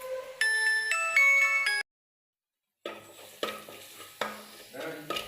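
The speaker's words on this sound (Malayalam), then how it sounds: "സവോള വഴറ്റുവാണേ" Onions sautéing in a pan for Kerala beef olathu give a close sizzle broken by scraping stir strokes, preceded by a brief tonal chime and a full second of silence.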